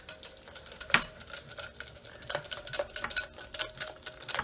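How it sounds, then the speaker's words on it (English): Crepe batter whisked in a bowl until smooth for cast iron cooking, a quiet run of quick scraping and tapping strokes with a sharper clink early on, no voices. "So I'm just going to mix this for a second till all the lumps are gone."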